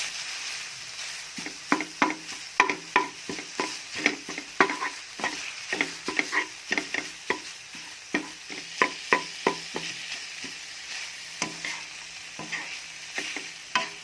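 Tofu and minced pork are stir-fried in a pan, with a steady sizzle beneath a rhythmic run of sharp spatula scrapes and stirs repeating every half second or so, close and clear, with no talking.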